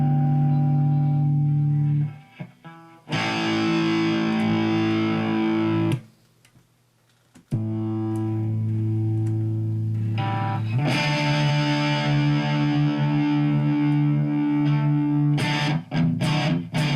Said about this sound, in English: We'll add a little distortion.